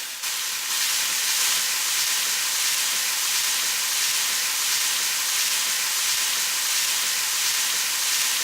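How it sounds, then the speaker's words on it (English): Onions cooking over low heat in a pan give a steady, close, even sizzling hiss that runs without a break and with no voices. "Cooking the onions"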